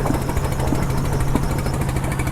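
A steady, droning motor boat engine runs throughout on a river crossing, with a constant low rumble and rhythmic knocking, loud and continuous with no pauses.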